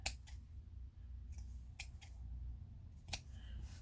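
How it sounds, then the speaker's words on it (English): Scissors snipping the corners of quilting fabric, a handful of quick, crisp cuts spaced irregularly, close and fairly quiet against a soft room hum. "cut the corners a little bit"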